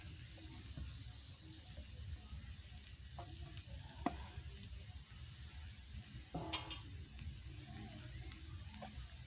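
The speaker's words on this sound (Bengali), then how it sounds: "ভেজে রাখা সবজিগুলো দিয়ে দেবো এতে" Pre-fried vegetables are stir-fried into chicken chowmein in a pan, a soft steady sizzle with a few scraping stirs and clatters, close and fairly quiet.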